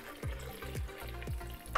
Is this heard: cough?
no